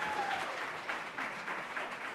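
Audience at a school board meeting breaks into a burst of clapping, moderately distant and filling the room for a couple of seconds with scattered hand claps, with no clear speech over it.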